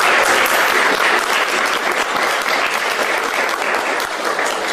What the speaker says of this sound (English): I'd actually like to give everyone to give them a round of applause.